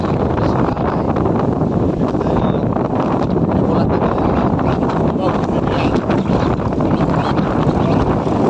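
Strong wind roars steadily into the microphone with a constant buffeting rumble, loud and unbroken throughout.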